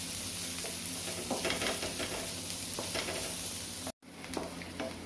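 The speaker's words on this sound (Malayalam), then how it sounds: "സവാള ഒന്ന് വഴറ്റട്ടെ" Onions sautéing in a pan with cumin seeds, giving a steady close sizzle with intermittent stirring scrapes and a brief cut near the end.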